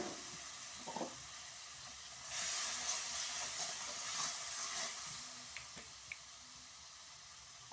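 A splash of water hits a hot pan of spiced masala (dimer recipe), bursting into a loud, steady sizzle and hiss around the two-second mark that carries on for several seconds, with a few faint stirring clicks and no talking.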